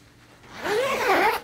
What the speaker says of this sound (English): you can unzip the whole bottom of the bag there